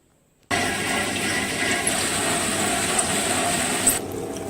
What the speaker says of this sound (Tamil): இப்போ நம்ம போய் அதை கிரைண்டரில் போய் போட்டு வந்துடலாம்